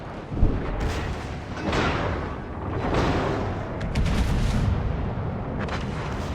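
A naval artillery salvo booms out in the World of Warships video game. Several heavy, close gun blasts overlap in a dense, rolling barrage that carries on throughout.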